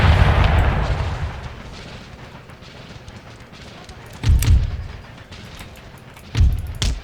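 Mortar fire in Empire Total War, the game's booming artillery blasts landing in a few heavy bursts over continuous battlefield din, with two loud impacts standing out near the end.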